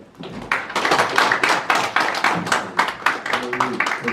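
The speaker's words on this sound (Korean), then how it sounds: "우리 김정기 도의원님께 박수 한번 부탁드립니다" At a Jeonbuk–Jeju exchange seminar, an audience claps for a provincial councillor in a run of loud, closely spaced bursts, with voices mingling in near the end.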